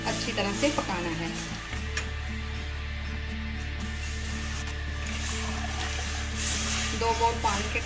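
Himachali mahani, a tangy sweet-and-sour dish with turmeric and added water, cooks in a pan with a steady low simmer and sizzle, broken by occasional stirring scrapes from a ladle.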